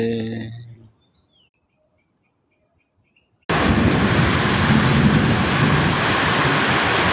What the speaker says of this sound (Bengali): প্রচুর বৃষ্টি হচ্ছে, প্রচুর আকারে বৃষ্টি